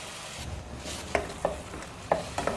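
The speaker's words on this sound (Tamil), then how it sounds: "அந்த தக்காளி இது எல்லாத்தையும் நல்லா கட்டி பிடிக்காமல் கலந்து விட்டுறணும்" A spoon stirs tomato and ground masala paste in a hot pan, soft scraping under a light sizzle, with several distinct close clinks of the spoon against the pan.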